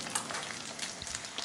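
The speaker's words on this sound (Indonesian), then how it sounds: "Pertama-tama siapkan telur, kemudian ini mau kita goreng." An egg fries sunny-side up in a pan, giving a steady, faint, close sizzle with no talking.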